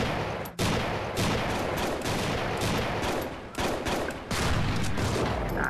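Rapid, loud assault rifle fire in the video game Strike Force Heroes 3, dense bursts of automatic shots crackling almost without pause across the whole stretch.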